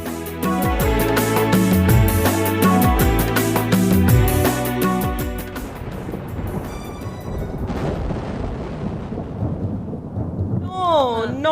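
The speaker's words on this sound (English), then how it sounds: "again it is raining heavily" Heavy rain pours with rolling thunder, a dense loud rumble and hiss that takes over after a stretch of music and continues to the end.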